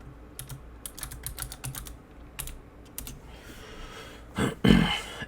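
Quick bursts of clicky computer keyboard typing as a name is entered in 3D modeling software, close and crisp, followed by a louder grunt-like vocal noise near the end.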